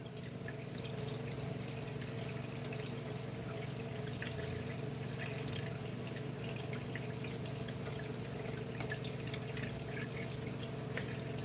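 Water poured steadily and continuously from a homemade setup while the water is being changed and cleaned, a constant close splashing flow with no talking.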